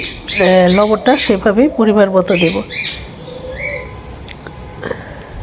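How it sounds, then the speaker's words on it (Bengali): Several loud, close squawks from pet birds kept at home, in quick succession, harsh and warbling, followed by quieter chirps as a person speaks. "আসলে আমার বাসায় অনেক পাখি আছে, পাখির কিচিরমিচির শব্দ,"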